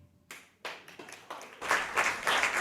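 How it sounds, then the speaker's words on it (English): Scattered audience clapping at a flower ceremony service starts after a short silence, building from a few sharp claps into fuller, louder applause toward the end. "You can't help but clap."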